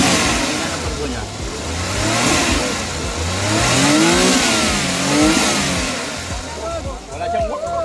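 A Suzuki DA64W 4x2 automatic with a weak turbo revs up and down close by, its mid-pitched engine swelling in waves as people talk over it.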